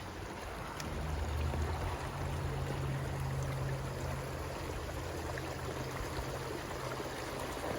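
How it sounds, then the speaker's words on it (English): The creek Trout Run flowing over rocks, a steady wash of running water heard close by with a faint low rumble, continuous and without speech. "This creek is called Trout Run."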